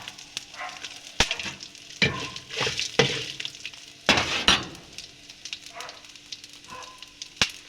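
Dried red chillies fry in a pan with a soft crackling sizzle, broken by sharp pops and stirring clinks of a utensil against the pan.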